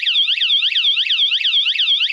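A battery-operated vibration alarm fitted to an e-bike wails loudly and continuously, sweeping up and down in a fast repeating siren pattern close by, with no voices.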